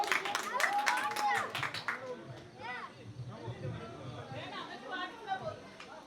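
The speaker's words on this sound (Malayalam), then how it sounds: "നല്ലൊരു കൈയടി എല്ലാവർക്കും" Guests at a Kerala sweet-sharing pre-wedding ceremony clap in a brief burst at the start, then chatter and a voice carry on over soft crowd murmur.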